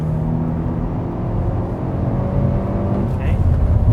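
A race car engine runs at full throttle on a track, a loud, steady droning roar that holds for about four seconds with a brief whine near the end.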